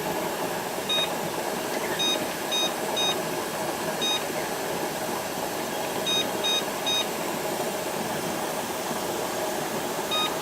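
A kitchen timer beeps in short repeated chirps while being set for a potato canning batch, over a steady hum from a stove or vent.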